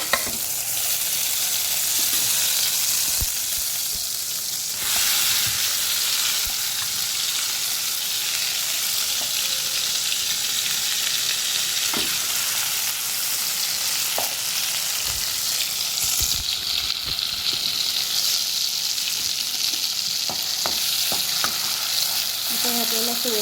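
Ground wet masala paste frying in oil, a loud continuous sizzle with occasional stirring scrapes, steady throughout with no talking.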